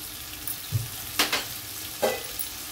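Biryani masala and onions sizzle softly in a pan while a spoon scrapes and stirs, producing a few short clattering strokes over a steady low fry.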